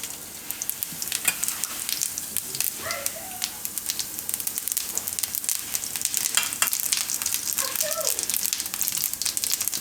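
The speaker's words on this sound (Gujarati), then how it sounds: "અને તેલ ગરમ થઈ ગયું. તેમાં આપણે નાખીશું થોડું જીરું." Cumin seeds crackle and sizzle in hot oil, a steady close frying hiss with small pops, while a voice talks quietly over it.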